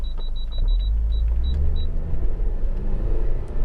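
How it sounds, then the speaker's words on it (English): Parking sensors on a Honda Accord 2.4 i-VTEC EX Tourer bleep in a quick series of short high beeps that slow and then stop, over low engine rumble. "So that's the parking sensors, by the way, bleeping."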